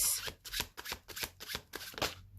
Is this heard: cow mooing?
no